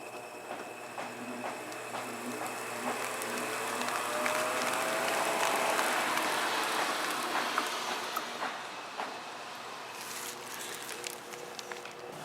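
A variable-speed motor drives the rig of a flying ghost Halloween prop, giving off a continuous mechanical whir with rhythmic clicking and rattling. It rises gently in the middle, then eases off, with sharper ticks near the end.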